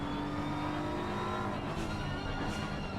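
A race car engine roars continuously in a sim racing game at Spa, loud and close, with shifts in pitch as it revs and accelerates.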